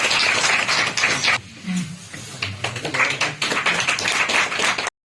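An audience at a university campus event claps softly for a student union, a short spell of scattered light applause that fades into a brief lull and then resumes, with a voice faintly underneath.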